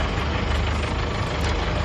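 A jeep engine idles just before an off-road ride, giving a brief, steady, close rumble with a low throbbing pulse and no voices.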